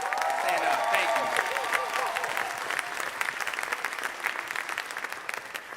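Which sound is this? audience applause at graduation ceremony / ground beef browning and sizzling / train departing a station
audience applause at graduation ceremony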